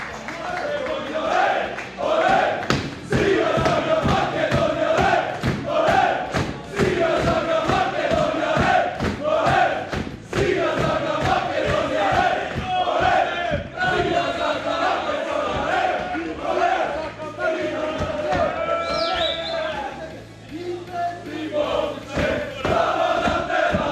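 A crowd of about 25,000 fans at a youth national team football match against Scotland at the Philip II national arena, roaring and chanting in loud rhythmic waves punctuated by steady claps or drumbeats throughout.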